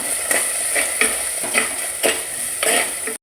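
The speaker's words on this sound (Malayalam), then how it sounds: "നമുക്കതിലേക്ക് സവോള ഇടാക്കാം ഇനി നല്ലോണം വഴക്കണേ" Onions sautéing in a pan for Kerala fish curry, with ginger and garlic already browned, give a steady sizzle broken by about six regular stirring scrapes.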